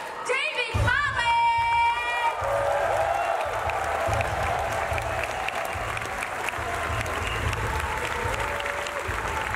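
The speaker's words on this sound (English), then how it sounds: "please give a huge round of applause" A large audience at a Star Wars Battlefront 2 event bursts into loud, sustained applause and cheering to welcome the Galaxy stage host, filling the whole stretch with dense clapping, with a few shouted voices at the start.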